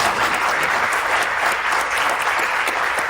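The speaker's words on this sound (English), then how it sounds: "Because if you do, give it a round of applause." A live podcast audience at a SIOP conference session bursts into sustained, dense applause, loud and steady throughout with no pauses.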